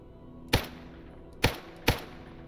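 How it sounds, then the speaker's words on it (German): Rifle fire in the video game STALKER Anomaly, three sharp separate shots with a slight echo tail at uneven intervals over quiet background noise. "Du hast das Rifle Fire gehört, ja."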